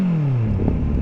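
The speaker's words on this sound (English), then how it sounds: "Wanna hear a 6 startup?" A six-cylinder motorcycle engine starts up: a brief falling starter whine gives way to a rough idling rumble, close and loud, lasting about a second.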